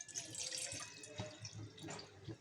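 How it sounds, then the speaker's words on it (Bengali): About 500 ml of water is poured into a container, a close, continuous splashing trickle with brief surges, heard on its own. "500 ml মতো জল নিয়ে নেব।"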